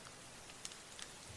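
A rain sound effect plays under a tabletop role-play session, a soft, continuous hiss of falling rain with a few faint drop ticks and no talking.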